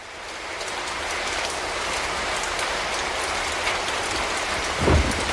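Heavy rain falls in a steady, dense hiss on a street in Yaroslavl, with a low rumble of distant thunder near the end and no voices.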